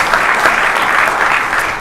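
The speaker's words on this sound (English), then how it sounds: "I'm gonna give them a round of applause for that." Steady applause from a crowd at an Orlando city council meeting, loud and sustained throughout with no pauses.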